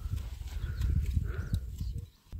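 Horses walk outdoors with their hooves clip-clopping in a steady, close rhythm under low background noise.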